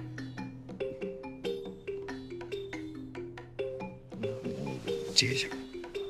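A mobile phone rings with a repeating electronic melody, steady and fairly close, in a domestic setting; a short burst of other noise rises near the end.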